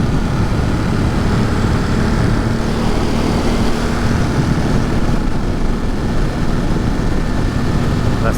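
Motorcycle with almost 6,500 miles on it, ridden on a scenic fall road near Roscoe in Catskill Park, NY: a steady, loud engine drone blended with wind rush, continuous throughout and close.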